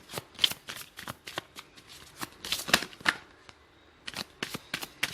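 Tarot cards shuffled and drawn in a quick run of crisp riffling flicks and snaps, some bursts louder than others, with a brief pause before the final card is drawn; no talking.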